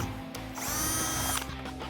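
A power drill with a 1/8 inch bit bores a hole through the hood of a 2018-2020 Ford Mustang, with one short whirring burst that rises, holds for about a second and then stops.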